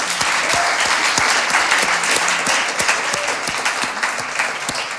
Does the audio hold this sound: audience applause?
yes